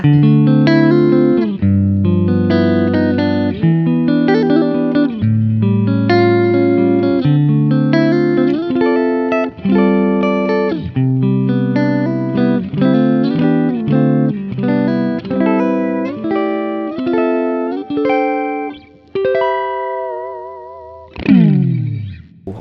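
A clean, warm electric guitar on mixed pickups, a Soloking Eak Blackhead signature model, plays a flowing melodic passage with chords and single notes, lightly effected, alone without talking.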